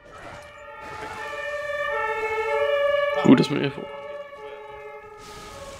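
A wailing emergency siren in the video game Zombie Army Trilogy sounds steadily throughout, its tones sweeping across several harmonics, with a person talking over it and a brief louder burst midway.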